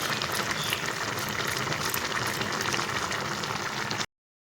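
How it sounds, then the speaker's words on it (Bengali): Curry broth of a vegetarian broccoli dish boiling in a pan, a steady dense bubbling and sizzling hiss that holds close and even for about four seconds, then stops abruptly. "আমার ঝোলটা ফুটে গেছে"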